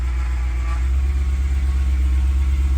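A BMW 1M with a swapped BMW P65 V8 engine from a Z4 GT3 idles steadily with a deep, pulsing rumble, close and constant throughout.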